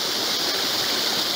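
Water from a cascade flows steadily in a continuous, even rushing hiss, with no pauses and no voices.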